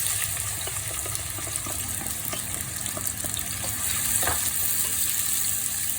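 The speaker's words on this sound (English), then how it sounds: "We've got a pan on with a little bit of oil on. It's been on medium heat, so it's nice and hot. And we're going to stick in the onions now." Onions sizzle steadily in hot oil in a pan over medium heat, a continuous close frying hiss with a few small pops and no talk.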